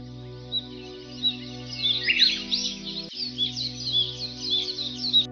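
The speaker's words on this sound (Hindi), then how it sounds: "पेड़ों पर चिड़ियों की आवाज" Birds chirp and tweet in the trees around a cartoon village, a stream of bright, quick calls repeating over a sustained musical backdrop, moderately close and clear.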